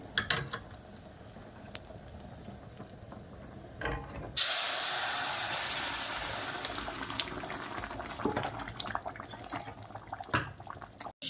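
Dal poured into a hot pot with fish heads, salt and turmeric sets off a sudden loud hiss that slowly fades into a steady bubbling sizzle, close by, with faint kitchen clatter before and after.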